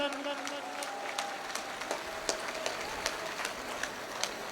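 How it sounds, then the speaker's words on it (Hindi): Audience applause greeting dignitaries at the opening of a new open-air stage at the Mukam fair's night vigil, with steady crowd clapping and sharp individual claps, fairly distant and continuous under a speaker's amplified voice. "जोरदार तालियों से स्वागत, अभिनंदन।"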